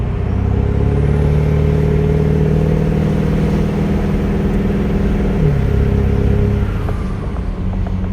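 A diesel truck with an 8-inch smoke stack runs at full throttle, a loud, close, droning engine roar with a rising whine. It eases off and drops in pitch toward the end.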